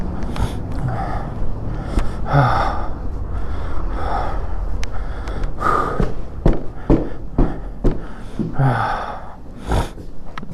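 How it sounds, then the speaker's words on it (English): Repeated sharp nasal sniffs and snorts, close to the ear, coming in irregular bursts with breathy gaps between them. "Oh, I got the sniffles."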